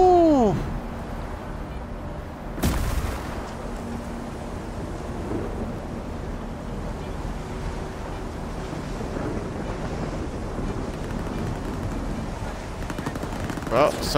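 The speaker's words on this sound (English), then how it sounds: "Someone's shooting at us." Distant gunfire and heavy rumbling ambience in S.T.A.L.K.E.R. 2: Heart of Chornobyl, with one sharp loud crack near the start and a steady storm-like roar underneath, while a voice speaks briefly.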